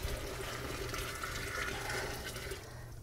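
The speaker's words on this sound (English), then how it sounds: "Now we're going to pour this water into the sink." Water pours from a pot into a kitchen sink, a steady rushing splash with no one talking, faint and even throughout.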